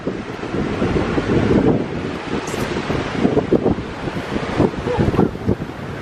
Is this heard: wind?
yes